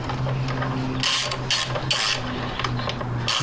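Ratchet wrench tightening parts in the engine bay of a 2007 Nissan Sentra during a spark plug replacement, giving loud bursts of rapid clicking in several separate strokes over a steady low hum.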